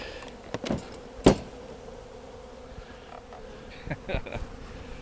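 Bees buzzing close by around honey supers, individual insects swooping past in loud passes over a steady background hum, with no talking.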